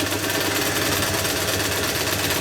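A budget leather sewing machine stitching through a folded, doubled leather strap, with a loud, steady, even mechanical whirr that runs close and unbroken throughout.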